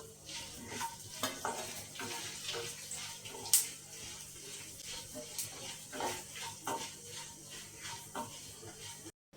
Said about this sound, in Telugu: ధనియాలు జీలకర్ర ఇవన్నీ వేసేసుకొని వేయించుకోవాలి